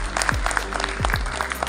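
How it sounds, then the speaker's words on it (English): Audience applause at a university seminar on sustainability, a brief burst of scattered clapping over a steady low hum in a hall, with a few faint voices underneath. "Give a huge applause to him."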